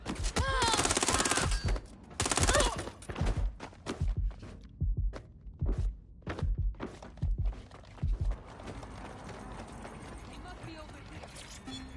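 Incoming gunfire in Watch Dogs Legion, a string of sharp separate shots and thuds spaced over several seconds after a louder opening burst, with voices talking over the action.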